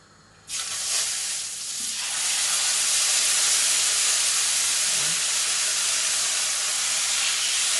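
Salmon fillet laid skin-down into a smoking-hot pan bursts into a loud, sustained hissing sear that starts abruptly and holds steady, close up.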